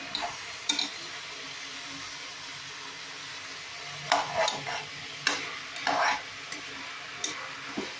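Vegetables for vegetable biryani sauté in a pan with a continuous low sizzle, broken by occasional spatula scrapes and stirring clatters.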